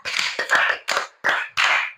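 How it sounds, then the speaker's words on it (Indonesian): Applause for group Anggrek in a classroom session, a few close bursts of clapping from a small group, loud and separated by brief pauses, about five clusters in quick succession. "tepuk tangan dulu untuk kelompok anggrek"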